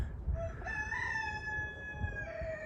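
A rooster crows once, a long drawn-out call with rising and held notes, over low background rumble, outdoors.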